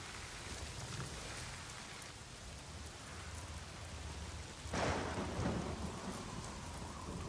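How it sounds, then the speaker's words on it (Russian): Rain and thunder from a storm building in the video game Days Gone, a steady wash of rainfall with a deep rumble swelling louder near the end, no voices. "Буря какая-то надвигается."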